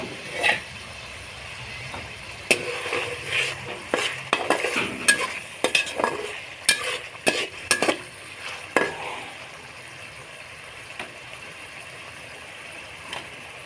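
Green chilies frying in chicken karahi, a soft sizzle under clattering strokes of a metal spoon scraping and stirring the pan in irregular bursts that thin out toward the end.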